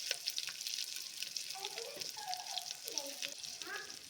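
Garlic and onion frying in ghee in a pan until browned, a steady close sizzle with occasional stirring scrapes and faint bubbling throughout.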